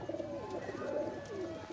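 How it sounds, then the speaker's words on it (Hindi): Mixed highflyer breeder pigeons kept as pairs in Faisalabad coo softly in a few rolling, repeated calls over faint background noise. "ये जोड़ों वाले और परवाजी कबूतर हैं, ये मिक्स कबूतर हैं।"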